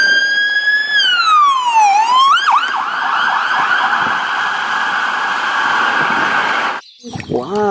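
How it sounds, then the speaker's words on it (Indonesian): A toy police car sounds an electronic siren, loud wailing tones that sweep down and up repeatedly, break into rapid yelps, then stop briefly before one more sweep starts. "ternyata ini mobil polisi"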